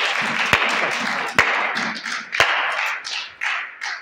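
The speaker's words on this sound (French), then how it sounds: "Applaudissons le roi de gloire" Church congregation clapping during worship, a steady spattering of hands with three sharp loud claps standing out, the sound swelling and dipping in waves over four seconds.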